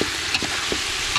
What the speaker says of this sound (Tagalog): Parang napiprito-prito na siya.